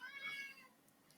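One short, quiet cat meow sounds alone, falling away into near silence.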